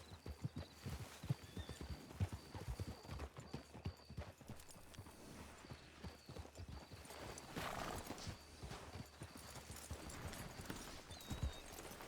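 Horses' hooves clip-clop in the video game Red Dead Redemption, a steady run of faint hoofbeats with an occasional whinny over a low background ambience.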